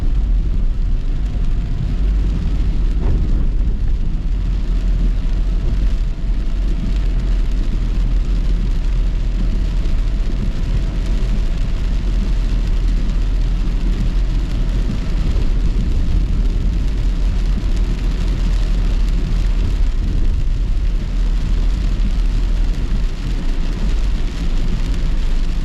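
Heavy rain pours steadily on a flooded Molynes Road in Kingston, Jamaica, a dense unbroken roar throughout, with vehicles passing faintly beneath the downpour.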